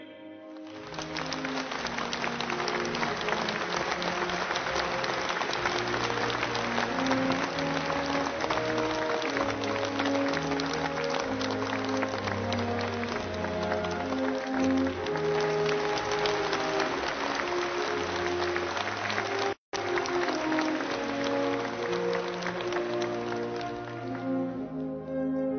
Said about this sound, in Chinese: 让我们再次用热烈的掌声向七一勋章获得者致以崇高敬意